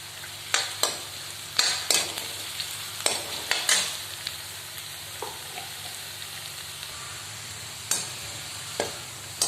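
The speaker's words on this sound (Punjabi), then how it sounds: "ਆਪਣਾ ਪਿਆਜ਼ ਲਸਣ ਭੁੱਜ ਚੁੱਕੀ ਹੈ" Onion and garlic frying in a pan, with a faint steady sizzle beneath sharp, intermittent scrapes and knocks of stirring at irregular intervals, close and moderately loud, no talking.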